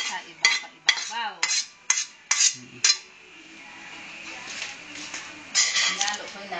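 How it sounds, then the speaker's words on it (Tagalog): Metal utensil scraping and clinking against a pan while leftover vegetables are stirred into pancit with fishballs, a quick run of sharp clatters followed by steadier scraping and shuffling, close up. "Hinalo ko yung natira at hinalo mo din sa pansit."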